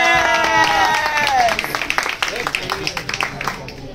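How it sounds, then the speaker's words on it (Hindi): Scattered audience clapping at a Hindi poetry recital about parents, held at an education foundation event, follows a speaking voice as uneven, sparse claps over a few seconds. "जोरदार तालियां बजनी चाहिए, हर शायरी के एंड में"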